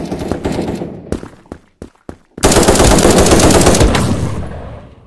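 Rapid automatic AK rifle fire in the browser shooter game Krunker, loud bursts that stop for a few sharp isolated shots, then resume as a sustained dense volley that tapers off at the end.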